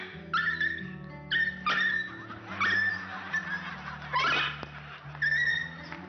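A comedian's voice imitates a whimpering dog, giving a series of short, high, whiny yelps in repeated bursts over a low background murmur.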